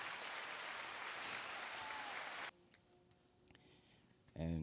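Applause from a small podcast audience greeting a family member, the father, at an introduction; steady clapping for about two and a half seconds, then near silence and a brief loud burst at the end.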